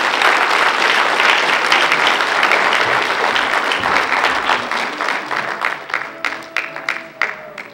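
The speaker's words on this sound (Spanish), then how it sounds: "Yo creo que quieren otro aplauso más fuerte para que se unan." A louder round of applause from a crowd at a sweet fifteen celebration, a full wash of clapping that gradually breaks up into distinct, sparser claps near the end.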